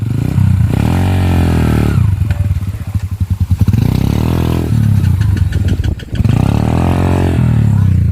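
A motorcycle on a mountain trail revs hard at full throttle, loud and close, with its engine note repeatedly climbing and falling and a brief sputtering dip midway, and no voices.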